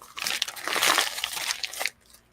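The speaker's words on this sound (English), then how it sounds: "why are you crumpling stuff in front of a mic?" Something is crumpled right in front of a microphone, a close, loud burst of crinkling and crunching that lasts about two seconds and then stops abruptly.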